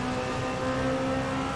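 Race car engine in Le Mans trim in a racing video game, a steady, high-speed drone held at constant pitch with a whirring tone throughout, loud and continuous, no talk.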